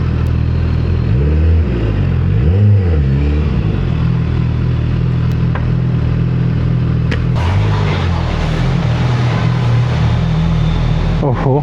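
A Suzuki Hayabusa motorcycle fitted with a new full-system exhaust idles with a deep, steady rumble. It swells through a couple of throttle blips early on, and voices can be heard over it.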